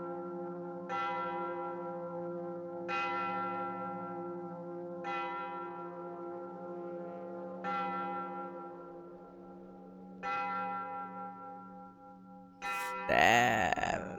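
A large bell in the film Black Narcissus tolls five times at an even, slow rhythm, each strike ringing out with a long humming decay, before a brief rough, breathy noise cuts in at the end.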